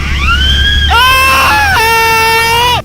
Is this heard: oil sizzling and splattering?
no